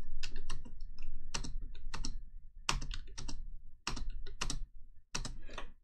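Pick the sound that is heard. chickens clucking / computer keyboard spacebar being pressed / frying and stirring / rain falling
computer keyboard spacebar being pressed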